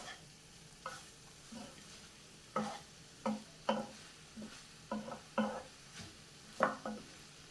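A soya mixture is stirred in a pan, with a spoon scraping and knocking against the metal in a dozen short irregular strokes over a soft, low sizzle, close and fairly quiet.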